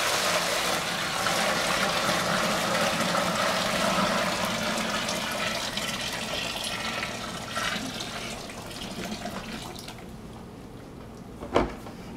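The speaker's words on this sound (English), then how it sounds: "First step is to pour it into the mash tun." Hot water pours into a mash tun for all-grain home brewing, a steady rushing splash that gradually softens before ending, followed by a short knock.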